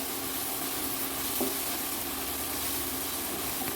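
Steady sizzle of onions frying in a pan with turmeric stirred in, a faint scrape of stirring under an even continuous hiss, close and moderate in level, no voices.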